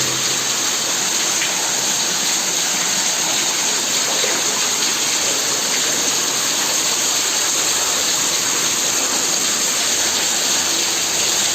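Water gushes strongly through a main pipe in an underground collector tunnel, a loud, dense, unbroken rushing roar filling the whole stretch without pause and with no talk.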